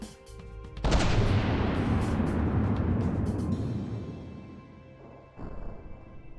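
Particle cannons firing in the video game From the Depths: a sudden heavy blast that swells into a long rumbling roar and slowly fades, then a second shorter burst near the end.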